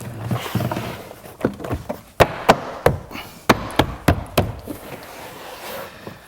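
Plastic retaining clips on a BMW 4 Series coupe door panel snap and knock into place as the trim is pressed onto the door: a string of sharp, close clicks and thumps clustered in the middle, with quieter handling noise before and after.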